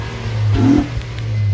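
A 2008 Honda Accord engine revs briefly after a restart, rising in a short smooth swell and then falling back to a steady idle hum, heard close and alone.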